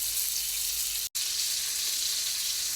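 Steak fries in a pan with a dense, loud, continuous sizzle and crackle held close, broken only by a split-second gap, with no voices.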